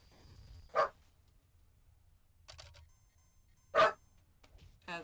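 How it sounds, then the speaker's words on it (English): A dog barks indoors, with two sharp, fairly close single barks several seconds apart and fainter clicks and noises in between. "As my dog barks."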